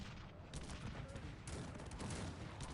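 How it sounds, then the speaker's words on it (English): Artillery firing in the video game Cossacks 3, a steady barrage of distant cannon reports and crackling volleys heard faintly and continuously, rising slightly in the second half. "The artillery is shooting"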